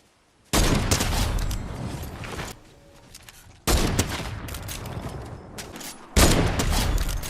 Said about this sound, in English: Next up, I've got the heavy sniper rifle.